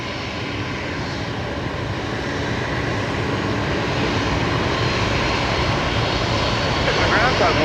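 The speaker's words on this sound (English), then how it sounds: "Let's go back to that velocity currently taxiing along Bravo. It looks like that's going to be the next departure." A jet airliner taxiing at Brisbane Airport at night fills the air with a steady, broad engine roar that slowly grows louder, with muffled voices beneath it.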